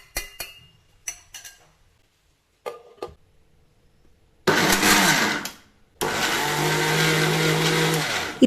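A mixer grinder jar blending ragi flour roars in two loud bursts, one short and one longer, after a few quiet clinks and taps of handling.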